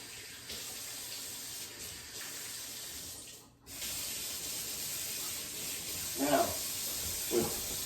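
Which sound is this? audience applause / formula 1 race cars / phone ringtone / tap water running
tap water running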